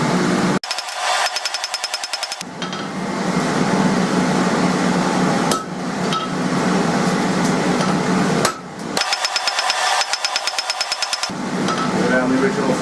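A hammer rapidly strikes a hand-forged nail head on an anvil, coming in fast rhythmic bursts of sharp metallic blows separated by brief pauses, loud and close, with a person speaking between them.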